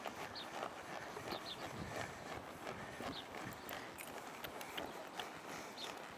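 Horse hooves during a circular tire drill with a young horse ridden in split reins and a snaffle, a steady clip-clop of footfalls continuing for several seconds over faint background noise.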